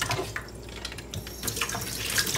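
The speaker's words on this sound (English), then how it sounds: "Give that a quick rinse." Water runs from a kitchen faucet as an onion is rinsed under it, a steady close splashing stream with shifting gurgles and spatters as the onion moves through the flow.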